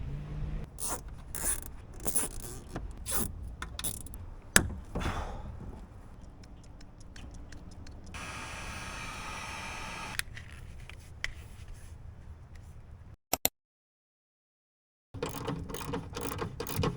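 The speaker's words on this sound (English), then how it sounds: "I have since switched to this crimper, which produces a much better connection" A ratcheting crimper works ring terminals onto wire, giving repeated close, sharp clicks and ratchet rasps in bursts, with a steadier mechanical stretch partway through and a brief silence near the end.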